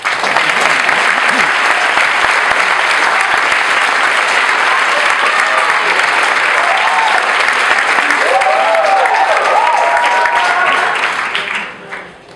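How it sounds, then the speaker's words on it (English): A high school award ceremony audience applauds merit scholarship finalists with steady, dense clapping that holds loud and even for several seconds before tapering off near the end, while a voice briefly speaks over it. "We can clap for each of them."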